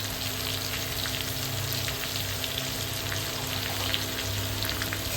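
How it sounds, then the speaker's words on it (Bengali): Pumpkin leaves fry with salt and turmeric in a pan, producing a dense, even sizzle that holds steady throughout, with faint stirring scrapes beneath a steady hum. "দেখো ভালো করে নাড়াচাড়া করে নেবো।"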